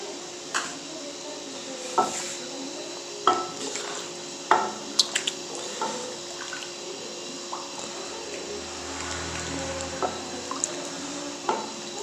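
Spices being stirred into hari mirch masala chicken gravy in a pan, with repeated scraping and clinking of a spoon against the pot over a steady low sizzle.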